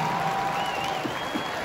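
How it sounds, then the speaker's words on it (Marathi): A crowd at a Govinda pathak dahi handi human-pyramid event claps in steady applause, a dense, even patter of many hands for the team's attempt. "या प्रयत्नासाठी जरा टाळ्या जोरदार होऊ द्या त्यांच्यासाठी."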